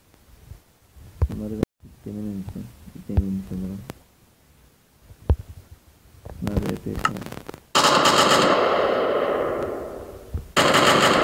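Gunfire from a gun mod in Minecraft Pocket Edition: rapid bursts of repeated shots in short volleys, then a long, loud sustained roar that fades out, with another blast at the end.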